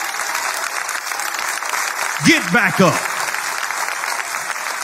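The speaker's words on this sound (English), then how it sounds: "Clap your hands and thank God for it." A church congregation claps in a steady wash throughout while a preacher briefly shouts over it in the middle.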